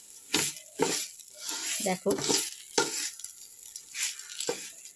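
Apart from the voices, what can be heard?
rice frying in ghee with bay leaf and cardamom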